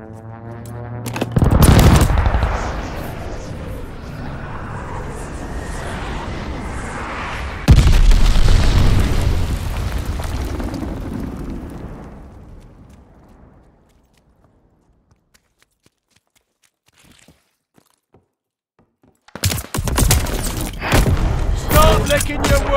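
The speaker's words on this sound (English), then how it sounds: "Your teammate called an airstrike." Video game airstrike: heavy booming explosions and rapid machine-gun fire, with a second blast midway. The noise fades to near silence, then a burst of fresh gunfire and impacts. Game voice lines and talk come over the noise.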